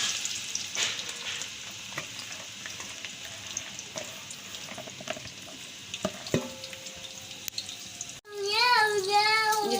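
Half a kilo of onions frying in a generous amount of oil for chickpea pulao, a steady loud sizzle with occasional stirring clatter. Near the end it drops off abruptly and is followed by a different, tonal sound.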